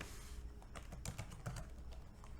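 Computer keyboard keys tapped while VBA macro code for automating Outlook mail is typed in Excel, close and fairly quiet, with irregular clusters of clicks over a low steady hum.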